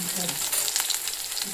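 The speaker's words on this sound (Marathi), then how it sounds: "हिरवी मिरची पण चांगली परतून घ्यायची" Green chillies and onion sautéing in oil give a bright, close sizzle with light stirring, steady and without voices for the short span.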